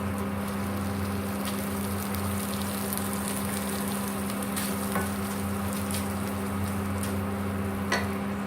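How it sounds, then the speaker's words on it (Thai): Thai curry paste for a seafood stir-fry sizzles steadily in a pan over gentle heat, a continuous close frying hiss with soft stirring scrapes and no voices. "ช่วงที่เราผัดพริกแกงเราก็ไม่ต้องใช้ไฟแรงนะคะค่อยๆผัดให้พริกแกงหอม"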